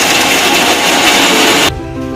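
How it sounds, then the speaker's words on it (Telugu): A mixer grinder blends chopped beetroot and carrot into a smooth paste for dosa batter, giving a loud, steady whirring roar that cuts off abruptly near the end. "మెత్తగా మిక్సీ పట్టుకొని దోశ పిండిలో కలుపుకోవాలి"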